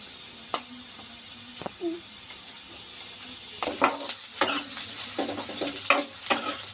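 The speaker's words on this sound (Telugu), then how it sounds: "ఇలా కలుపుకోవాలి. అడిగంటుద్ది కలుపుకోకపోతే." A spoon works through bitter gourd curry with onions, chilli powder, salt, cumin and garlic in a hot pan, giving scattered scrapes and knocks over a steady sizzle that turns busier and louder partway through.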